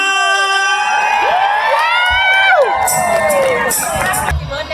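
A live audience at a primary school stage show cheers, whoops and shouts loudly, and clapping breaks out in the second half.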